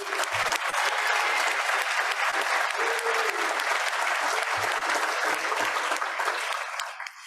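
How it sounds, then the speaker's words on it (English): Rotary Club celebration crowd in Fort Worth applauding everyone, loud sustained clapping throughout with a few voices calling out beneath it, tapering slightly at the end. "Un aplauso para todos."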